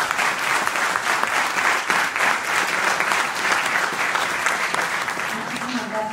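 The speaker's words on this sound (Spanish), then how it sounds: "Demos un fuerte aplauso a la maestra Patricia Ofelia López Padilla." Loud, sustained applause from an audience in a university law faculty lecture hall, steady clapping filling the room for about six seconds.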